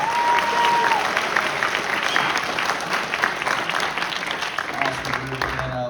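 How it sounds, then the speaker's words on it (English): Steady crowd applause at a high school jazz concert fills the room, many hands clapping together at an even level before it begins to thin out at the end. "Give him a round of applause."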